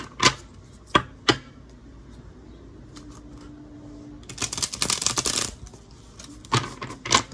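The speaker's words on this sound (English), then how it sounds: "This deck is actually a little rough for me to shuffle." A rough-textured tarot deck being shuffled by hand: several sharp card snaps early, a faint hum, then a dense riffling burst mid-clip followed by a few more crisp slaps, close and fairly quiet.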